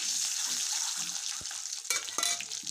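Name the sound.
eggs frying in mustard oil in a wok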